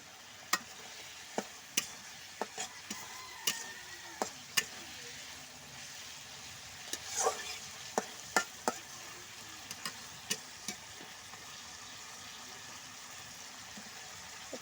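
Vegetables coated in salt and turmeric frying in a pan, a steady soft sizzle broken by repeated sharp clicks and scrapes of stirring, fairly quiet with no talking.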